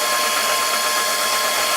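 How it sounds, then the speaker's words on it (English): A steady, high-pitched drill whine grinds continuously at close range, drilling a 1/8-inch hole through a metal crank of a model steam tram, a constant buzzing hum with no pauses or voices. "drill through the crank an 1/8, which is the diameter of the crank pin"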